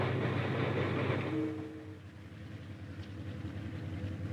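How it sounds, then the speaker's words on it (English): A chartered Santa Fe Railroad freight train hauling equipment and supplies from California to New Mexico rumbles past at moderate distance, a low steady roll with faint wheel clatter that eases slightly partway through. "Two trains were chartered from the Santa Fe Railroad for the journey."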